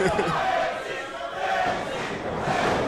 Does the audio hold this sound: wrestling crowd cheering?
yes